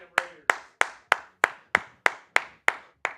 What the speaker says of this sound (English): Pola-Mao is even clapping on the field because he knows he just gave him 15 free yards.